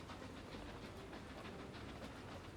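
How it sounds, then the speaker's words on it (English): Train in the video game Workers & Resources, heard as a steady, faint rolling rumble with rail clatter and no voices. "That's the train I want"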